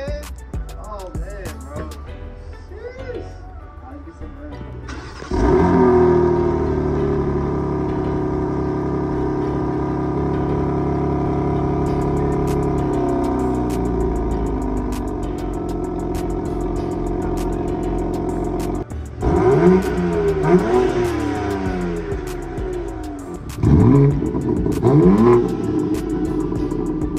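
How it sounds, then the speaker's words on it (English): A BMW G82 M4 Competition's engine starts up with a sharp rev, then settles into a loud, steady idle close by, with further throttle blips near the end and a few short voices heard over it. "we're about to do a first drive with the M4"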